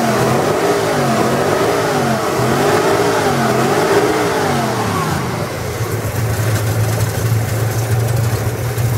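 A 1970 Ford Mustang V8 revs repeatedly in rising and falling sweeps, then settles into a low, rumbling idle, loud and close.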